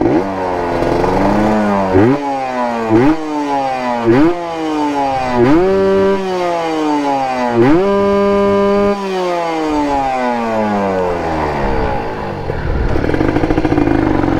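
A tuned daily-use motorcycle engine revs repeatedly up and down in sharp surges, loud and close, with one longer held rev before settling to idle.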